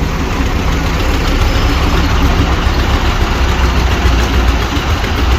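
A loud engine idles steadily and close by, a continuous low rumble without speech.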